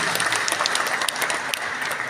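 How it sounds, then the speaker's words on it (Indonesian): A hall full of people claps continuously and loudly for Pak Kiai at a West Java mosque council awards thanksgiving ceremony, a dense, even patter with no break. "Tepuk tangan buat Pak Kiai"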